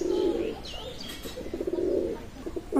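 Pakistani high flying pigeons coo softly in a loft, with repeated low throaty coos and a few faint chirps and wing sounds.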